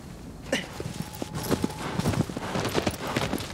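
Hooves of a horse with a white star on its face clip-clop across the ground in Shadow of the Colossus, a quick uneven patter of close steps over a busy ambient backdrop.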